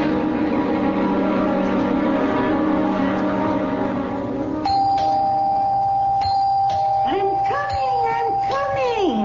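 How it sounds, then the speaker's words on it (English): A doorbell rings with a bright sustained tone and repeated sharp dings in the second half of a radio drama scene, following a low droning background, with voices heard alongside. "Don't have to rip the bell off the door, young man."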